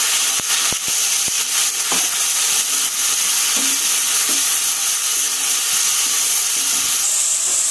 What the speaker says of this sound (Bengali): এবার দিয়ে দিচ্ছি পেঁয়াজ এবং রসুন বাটা, তিন চামচ পরিমাণ।